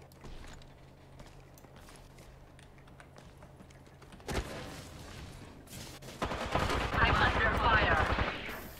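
First-person shooter gunfire: faint scattered shots and keyboard clicks at first, then a sharp burst followed by sustained loud automatic fire near the end, with players talking.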